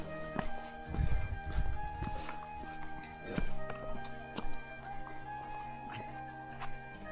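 Horses climb the mountain trek to Kedarnath, their hooves giving repeated sharp clip-clop strikes on the path. A heavier thudding burst comes near the start, and faint background noise and distant activity sit around the steady footfalls.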